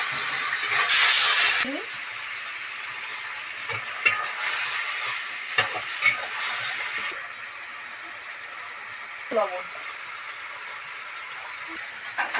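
Tomato sizzles and hisses in a hot pan, loud at first then settling into a steady low crackle, with a few clinks of a utensil against the pan.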